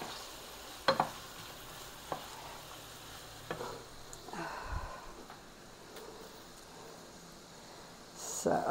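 Onion frying in a taco soup pot on a turned-down burner, with a few sharp spoon knocks against the pot and soft stirring scrapes over a quiet sizzle, close up.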